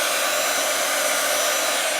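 A heat embossing tool blows hot air onto embossing powder on a paper flower: a loud, steady fan-like whoosh, close and unbroken for the full moment.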